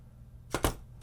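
A 10mm wrench clicks twice against the handle nut of a Maxel Rage jigging reel, two quick sharp metallic taps close by in otherwise quiet surroundings.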